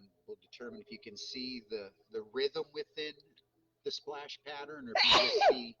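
A single loud, close sneeze bursts out at the end, right after a person speaking in a calm, measured voice.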